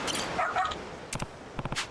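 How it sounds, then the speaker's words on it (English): Short yips from a dog in Like a Dragon: Pirate Yakuza, a quick pair of barks near the start of the second second and a rapid cluster of three or four near the end, over a faint game background. "Ah, there's that dog that's been zipping around."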